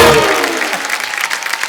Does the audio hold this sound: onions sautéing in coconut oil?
no